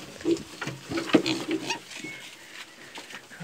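Pigs feeding on dry grower ration at a homemade wooden trough give a few short grunts and snuffles, close but fairly soft, over a brief stretch.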